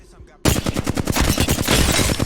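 Flatline rifle from Apex Legends firing a rapid full-auto burst of sharp, evenly spaced shots, loud and close, after a brief quiet moment at the start.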